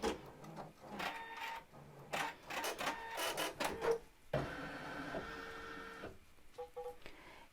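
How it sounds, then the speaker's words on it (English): An embroidery machine sews securing stitches on quilt fabric in a hoop. It gives rapid mechanical stitching bursts that stop and start, with brief pauses and a few short beeps toward the end. "I'm going to stitch the securing stitches for this fabric"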